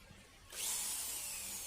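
A power drill starts abruptly and runs at steady high speed as it bores a hole, likely with a hole saw, during an AGV build. Loud and close, it is preceded by brief quiet handling sounds.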